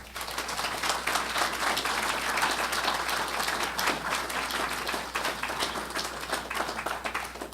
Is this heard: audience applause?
yes